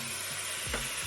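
Beef sizzles in a pan for a vegetable stir fry as its moisture cooks off, a brief, close, crackling hiss.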